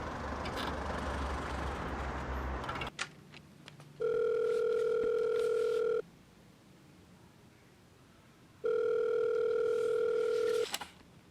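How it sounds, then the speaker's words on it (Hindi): Unanswered telephone call in a Hindi comedy film: two long steady two-tone ringback bursts separated by a quiet gap, following a stretch of busy background noise, loud and alone without speech. "जय, तुम फोन क्यों नहीं उठा रहे हो?"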